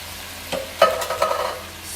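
A curry of sweet potato, chickpeas, beans, coconut cream and tomatoes being stirred in a pot: a few short spoon scrapes and a gentle bubbling sizzle, close and brief, with no voices.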